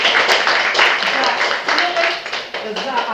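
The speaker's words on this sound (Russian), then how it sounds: "И давайте поблагодарим и поприветствуем аплодисментами." A room of Russian teacher-training participants applauds in dense, continuous clapping, with voices heard through it.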